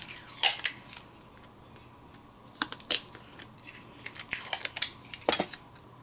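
Scissors cutting card bases for a Christmas gatefold card, sharp snipping clicks near the microphone coming in irregular clusters, alone against a quiet room background.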